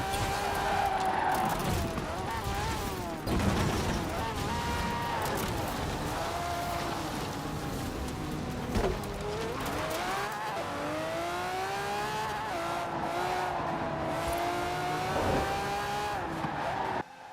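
An upgraded car with its stock engine accelerates hard in Forza Horizon 4. The engine screams loudly through repeated rising revs and gear changes, with tyre squeal and skidding throughout, close and continuous.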